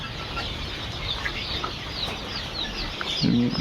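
Ten-day-old Fayoumi chicks in a poultry brooding farm, with a dense continuous chorus of high chirps and peeps under a faint background hum.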